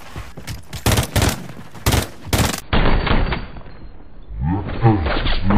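Gunfire in the video game Call of Duty Modern Warfare III: several sharp bursts of automatic shots in quick succession, loud and close, followed by thuds and a muffled, filtered stretch of game sound.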